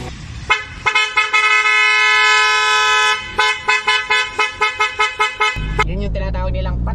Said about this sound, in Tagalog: Yan yung busina niya. Made in Germany yung mga yan.